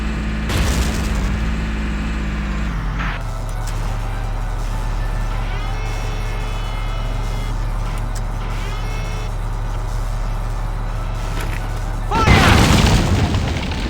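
Booming explosions and gunfire from the video game Valkyria Chronicles, with a heavy low rumble throughout and a louder blast near the end.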